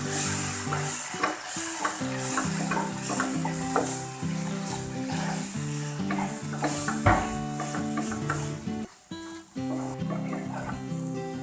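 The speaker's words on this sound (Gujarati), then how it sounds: "હવે આ મસાલાને આપણે ઘી બહાર આવે ત્યાં સુધી ચડવા દઈશું" Spice masala of roasted gram flour, red chili and coriander-cumin powder cooks in ghee for a green pea chaat while being stirred. A steady close sizzle runs throughout with scraping strokes, over faint background music.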